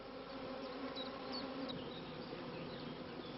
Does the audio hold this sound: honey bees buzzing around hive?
yes